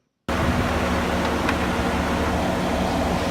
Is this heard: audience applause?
no